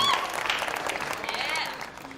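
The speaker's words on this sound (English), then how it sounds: "The crowd loving it, Toby" Crowd applause at a poker tournament, a steady wash of clapping filling the whole stretch, with a commentator's voice faintly audible over it.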